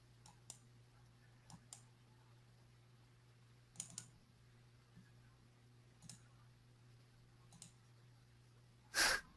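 Sporadic keyboard typing from several people during an online trading class, light scattered clicks and short bursts spread through a quiet room, with one louder burst near the end.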